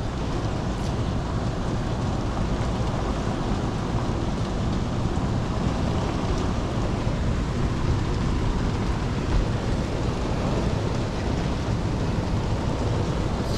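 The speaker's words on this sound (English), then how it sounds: "or the rain's going quite vertical." Continuous heavy rain pours down in a dense hiss, with a low rumbling undertone of distant thunder and wind throughout.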